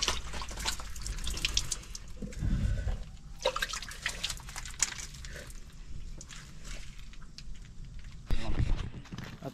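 Water runs and splashes from a pipe at a hillside well at Thuvvakkad in Malappuram, a steady close flow with a few louder gushes, and people talk over it.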